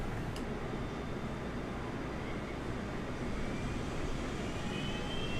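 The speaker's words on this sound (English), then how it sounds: "we're going to go ahead and start the APU" Auxiliary power unit of an Airbus A321 starting up in Microsoft Flight Simulator 2020, a steady, dense whooshing roar that holds at an even level throughout with no voices.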